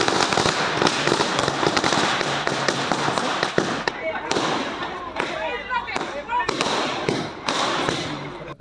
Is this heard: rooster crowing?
no